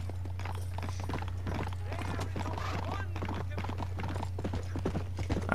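Horse hooves clip-clop steadily through the Red Dead video game as a mount moves along, a continuous rhythmic trot with someone talking over it throughout.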